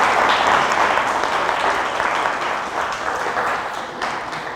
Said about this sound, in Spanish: Le damos un fuerte aplauso al maestro César Martínez.